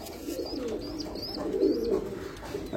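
Pigeons cooing close by, a pair of parent birds, with repeated soft rolling coos and a few brief higher chirps over a steady low murmur, no talk.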